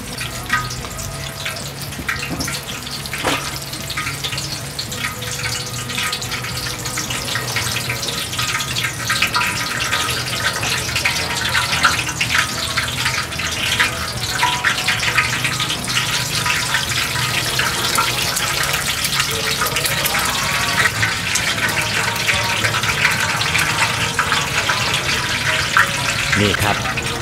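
Khanom wak batter fries in a wok in Songkhla, a loud, continuous sizzle with crackling and stirring that holds steady throughout, with voices in the background.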